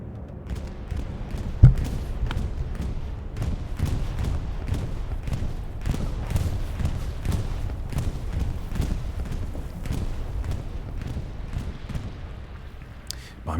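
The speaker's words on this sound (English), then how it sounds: "Bombing run coming in from the Axis side over the church" An Axis bombing run over a church in Hell Let Loose sets off a long string of heavy booms and thuds, some close and loud, others distant, rolling under a continuous battle din with voices present.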